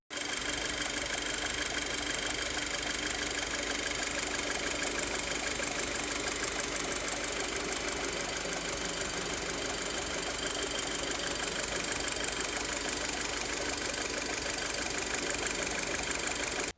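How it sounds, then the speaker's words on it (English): A 2.0 FSI Audi engine runs steadily at idle with a suspected cooling fault, giving a continuous even mechanical drone with a faint wobbling, sloshing undertone from the front, close and unbroken throughout. "there is a bit of a wobbling, or I might even say sloshing noise coming from the front"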